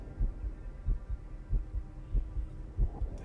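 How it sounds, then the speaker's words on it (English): A deep, muffled heartbeat cue in a video game thumps in a steady slow double-beat rhythm, low and throbbing with a soft hum beneath, no voices. "It's got that heartbeat, meaning it's an important one."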